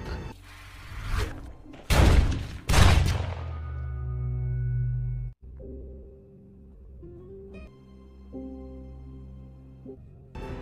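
Sniper gunshots in a film: two or three loud sharp blasts in quick succession with ringing tails, followed by a sudden cut to quieter tonal sound.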